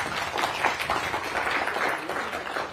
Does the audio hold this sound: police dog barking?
no